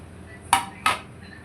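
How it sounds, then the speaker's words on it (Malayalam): Mixed cut fish tipped into masala in a pan, two sharp metallic clanks of a utensil knocking against the pan, close and alone. "വെട്ടി വെച്ചേക്കണ മിക്സ്ഡ് മീൻ നമുക്കിതിലേക്ക് തട്ടി കൊടുക്കാം"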